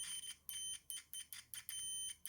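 A multimeter set to continuity mode gives a run of sharp, high-pitched electronic beeps in an uneven stop-start rhythm, some short and some held longer. The beeps are close and loud, with no talking.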